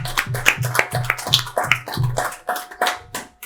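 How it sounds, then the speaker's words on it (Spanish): Audience applause at a comics festival talk in Logroño, a steady patter of claps that thins and fades out over a few seconds, fairly close and loud with no talk over it. "un aplauso a ellos"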